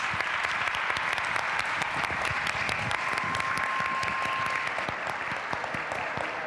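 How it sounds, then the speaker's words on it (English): A conference audience at a leadership round table claps for Rebecca Greenspan, a loud, continuous wash of many hands that holds steady for several seconds without talk. "Can we have a round of applause for Rebecca Greenspan?"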